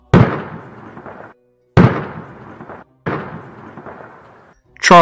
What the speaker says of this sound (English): Three gunshots pierced through him.